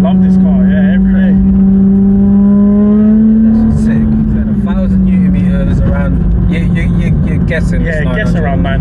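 A 900 bhp big-turbo BMW M140i revving loudly up close, its engine note rising then holding a strong steady drone, with people talking over it.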